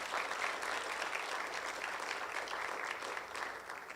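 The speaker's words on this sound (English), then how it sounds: "let's give them a quick round of applause" Sustained applause from an audience, many hands clapping in a steady wash, heard from a moderate distance.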